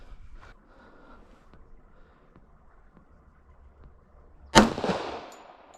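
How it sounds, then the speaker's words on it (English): A single sharp, loud shot from an FNX-45 pistol fired in double action, cracking suddenly out of a quiet background and trailing off in a short echo. "So now let's do some more shooting from double action"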